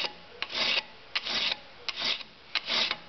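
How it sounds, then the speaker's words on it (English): A metal hand file rasps back and forth across the rounded shoulders of a nut, four steady strokes each led by a sharp catch, close up with no talking. "keeping the angle of the file cutting to the base of the nut."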